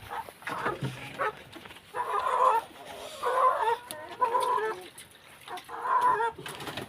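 Chickens cluck in a small backyard pen at a Kenyan village home, the calls coming in repeated bursts at moderate distance with a dog barking now and then among them.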